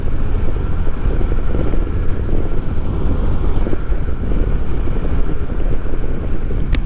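A Harley-Davidson Heritage Classic with the 114 engine cruising in sixth gear behind a large windshield, a loud steady low engine drone blended with constant wind rush across the microphone, no talking.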